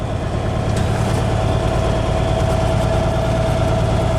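A 1981 International cab-over truck engine idles steadily at close range after years of sitting, a continuous low diesel rumble with a faint constant tone above it and no talking.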